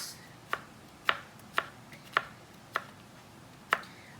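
Knife chopping bell pepper on a cutting board for summer lettuce wraps: six sharp, evenly spaced chops about half a second apart, close and clear over a quiet room.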